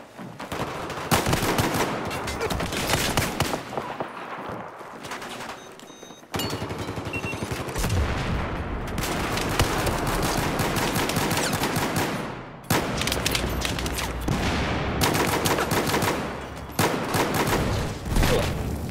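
Gunfire in the Call of Duty Black Ops 4 video game, with an M9 among the weapons, comes as dense bursts of rapid shots in repeated volleys, loud and close, broken by short pauses.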